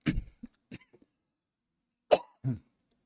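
A few separate coughs and throat-clearing bursts, close to the microphone, spaced apart with silent gaps between them.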